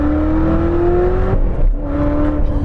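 A stock 2019 Corvette ZR1 engine revs under throttle in second gear on a slightly damp road, a loud, steady rising drone that breaks off briefly midway as the gear changes, then resumes close and strong.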